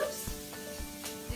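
Onions and peppers sizzling in a frying pan during meal prep, a soft continuous close hiss with a few light clunks and scrapes from stirring, no speech over it.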